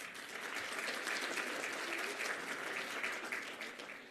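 Audience applause fills a summit closing ceremony, a dense, steady wash of many hands clapping at full strength throughout, easing only slightly near the end with no voices over it.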